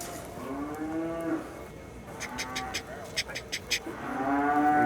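Cattle moo several times, long low calls close by, with sharp clicking or tapping sounds between them.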